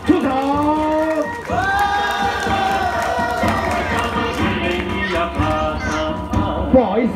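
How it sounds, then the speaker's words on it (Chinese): A live audience at a Taroko Shanyue village show welcomes a performer onstage with loud sustained cheering and shouting from the crowd, rising and falling over several seconds. "现场来宾掌声欢迎哈鲁格纳威出场"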